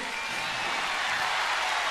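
Steady, dense applause from a large concert audience at the Festival de Viña 1998, a continuous wash of clapping and crowd noise with no pauses.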